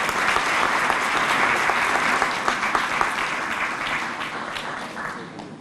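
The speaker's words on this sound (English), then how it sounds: "Please, by round of applause, say thank you to Ms. Lisa Wong." An audience at a police district award ceremony gives a loud, sustained round of applause that stays dense and even throughout, tapering slightly toward the end.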